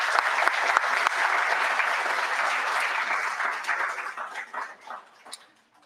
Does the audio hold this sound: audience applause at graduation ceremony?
yes